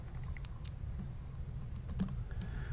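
Fingers tap out text on a computer keyboard, a quick, uneven patter of soft key clicks, close and quiet, with no talking.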